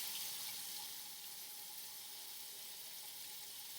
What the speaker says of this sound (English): So what you want to do is turn on your sink.